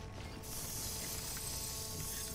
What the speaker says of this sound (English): I'm going to use a bit of the spray here